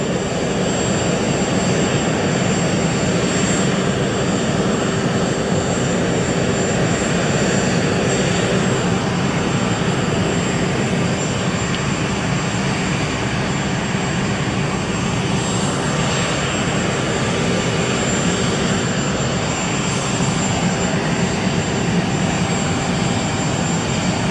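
The U.S. presidential helicopter sits waiting with its engine running, giving a loud, continuous turbine whine and roar that holds steady throughout with no talking.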